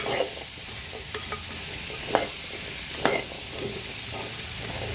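Chickpeas sizzle and fry in hot oil as they are stirred, with a steady hiss and a few soft scraping clicks from the spoon, close and fairly quiet.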